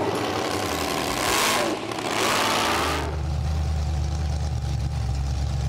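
Willys Wagon engine revving hard as the truck drives into a mud pit, loud and close, surging twice before settling into a steady low rumble.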